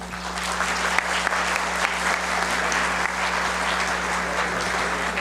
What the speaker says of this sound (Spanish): nuevamente un aplauso, por favor.